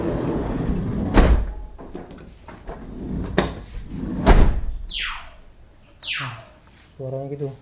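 A 2009 Daihatsu Luxio's car door closes with sharp thuds, one near the start and two more later, followed by swishing movement sounds, while someone talks nearby.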